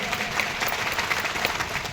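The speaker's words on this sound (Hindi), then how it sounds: "ताली मर्दों वाली बजाइए सर, भरोसा पहले आएगा।" An audience claps at a motivational success-story event in Botad, dense steady applause filling the whole moment with a crowd murmuring beneath.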